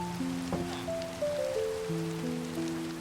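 Rain falls steadily in the video game Minecraft, a soft continuous patter sitting under game music tones and a brief sharp click, moderately loud with no one speaking.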